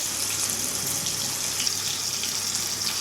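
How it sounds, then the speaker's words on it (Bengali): A small amount of water pours into a cooking pot, a steady close wash of splashing and hiss lasting a few seconds, with no talking. "দিয়ে দিলাম সামান্য জল সুসেদ্ধ হওয়ার জন্য"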